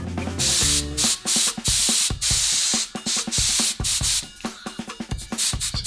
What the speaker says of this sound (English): Now to the airbrush.